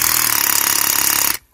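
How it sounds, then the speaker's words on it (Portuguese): A DeWalt DCH133 20V cordless rotary hammer drilling into rock, giving a loud, close, rapid hammering rattle that runs evenly and then abruptly stops. "ela tem muita batida para pouca rotação, e a batida dela é bem forte, dá para ouvir de forma bem clara"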